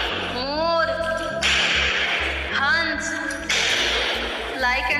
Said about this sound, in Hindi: ये सिर्फ बैलून को फोड़ रही है